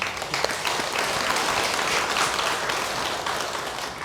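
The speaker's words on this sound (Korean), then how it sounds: "우리 두 모녀에게 박수 한번." Steady audience applause fills the room at a Buddhist temple memorial service, continuous and fairly close for the whole stretch, honoring a mother and daughter.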